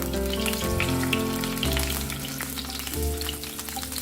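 Chicken pieces frying in soybean oil in a hot frying pan over a low-medium flame give a dense, steady sizzle and crackle, heard alone under a sustained tonal hum.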